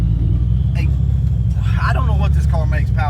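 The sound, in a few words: car with 12lb Vortech T-Trim supercharged 306 engine at half throttle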